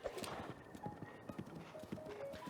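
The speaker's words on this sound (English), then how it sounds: "there's some wild horses that you can sneak up on and try to catch." Wild horses gallop with rapid clip-clop hoofbeats in The Legend of Zelda: Breath of the Wild, a busy, continuous drumming of hooves at moderate volume with faint game ambience.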